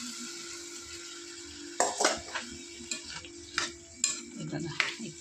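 A spoon stirring potato gravy with black chili powder in a pot: a low background hum, then repeated metallic scrapes and clinks against the pot at irregular intervals over a faint sizzle.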